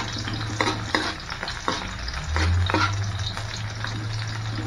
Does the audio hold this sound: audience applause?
no